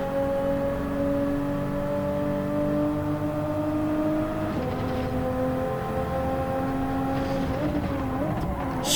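A race car engine in Gran Turismo 7 holds a loud, steady high drone through the gears, with a brief dip as it shifts and the pitch climbing again near the end. Faint commentary sits underneath.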